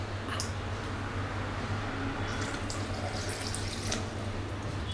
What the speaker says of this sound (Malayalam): ഇനി നമുക്ക് ആവശ്യത്തിന് വെള്ളം കൂടി ഒഴിച്ചു കൊടുക്കാം.